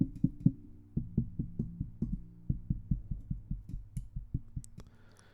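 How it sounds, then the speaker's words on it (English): Knuckles tap a microphone arm in a steady series of about twenty close, hollow knocks with ringing low tails, a few louder hits early on and faint rattles toward the end. "Next, I'm going to tap on the microphone arm."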